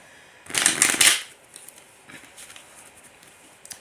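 A deck of tarot cards shuffled by hand, one loud close riffle burst of about a second, followed by quieter soft slides and taps of the cards.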